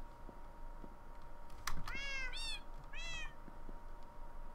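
A ginger cat in the Minecraft video game gives two or three clear, rising meows in quick succession, standing out over a steady low background hum with a short click just before.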